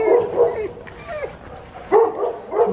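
A dog out on a walk barks and yips in short bursts, close and fairly loud, with gaps between the calls and a few whimpering tones.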